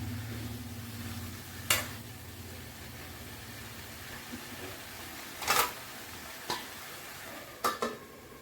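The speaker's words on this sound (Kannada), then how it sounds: "ಈಗೆಲ್ಲ ಚೆನ್ನಾಗಿ ಮಿಕ್ಸ್ ಮಾಡಿಕೊಂಡು ಮುಚ್ಚಿ ಒಂದು 5 ನಿಮಿಷ ಬೇಯೋದಕ್ಕೆ ಬಿಡಬೇಕು." Raw plantain stir-fry is stirred in a pan with a soft, steady sizzle, broken by several sharp scrapes and clinks of the spoon against the pan, heard up close with no talking.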